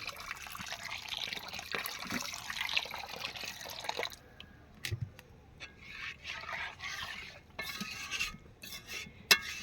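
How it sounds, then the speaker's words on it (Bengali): Water poured into a pot of cooked lentils for motor dal, a splashing, trickling pour with clinks of a utensil against the pan, fairly close, with no talk. "আর একটু জল অ্যাড করব।"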